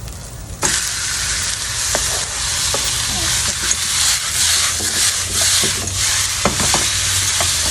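Pork sizzles and fries with ginger and chili in a pan, a steady loud hiss with occasional sharp spatters and stirring clicks throughout, no talking.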